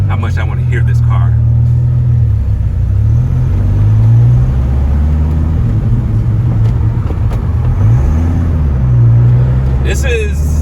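A Dodge Viper engine drones loudly at close range with a deep, steady rumble, its pitch rising and falling in slow swells as the revs change, with faint mechanical noises above.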